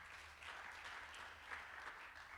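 Church congregation applauding, a steady wash of many hands clapping at moderate distance, fairly faint and even across the short stretch.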